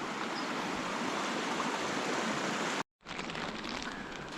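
A mountain stream in the Emigrant Wilderness near Kennedy Lake rushes steadily and loudly, a dense continuous wash of flowing water that cuts out briefly before resuming.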